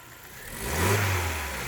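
Opel Astra 1.6 115 hp car engine, fresh from an ignition and timing repair, rising from idle into a short rev and then holding a steady higher drone, close and alone.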